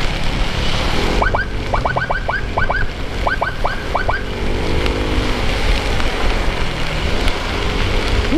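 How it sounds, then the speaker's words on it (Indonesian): Rain pours down during a motorcycle ride on the road from Bandung toward Ciamis, a loud steady wash of rain and road noise blended with engine rumble, with a run of short chirping tones early on. "Hujan-hujanan."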